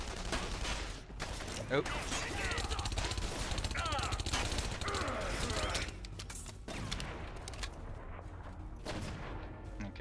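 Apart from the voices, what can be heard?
gunshots from downstairs in The Saboteur video game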